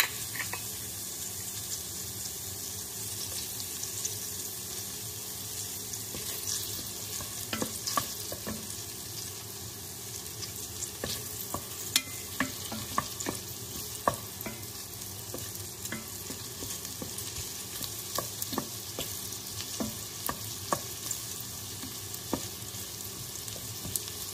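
Garlic and onion sautéing together in a pan for spaghetti sauce, a steady broad sizzle with scattered scraping stirs and light clicks, close and continuous without any talking.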